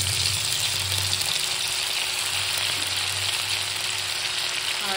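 Whole cumin seeds and a little ginger sizzle in hot oil left over from frying fish, a dense, steady, close frying hiss that runs unbroken and alone, with no talking.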